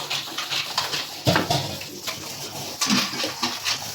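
Dishes being washed under running water at a home kitchen sink, with splashing and clattering bursts over a steady wash of flowing water, fairly close and busy, no talking.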